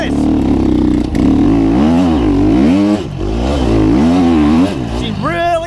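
A 250F four-stroke dirt bike races loudly and close, its engine note rising and falling through repeated revs and gear changes, straining under load, with a brief higher whine near the end.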